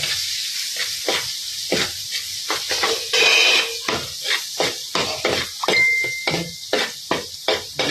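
Onion and seasonings sauté in butter in a pan, a steady close sizzle broken by repeated sharp scraping and tapping strokes of a utensil against the pan in an irregular rhythm, with no voices.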